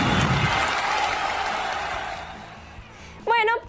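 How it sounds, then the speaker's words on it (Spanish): A studio audience at a Spanish-language television show applauds loudly at first, then the clapping fades out over a few seconds before a voice begins speaking. "Un aplauso para Dana Bustamante, señoras y señores."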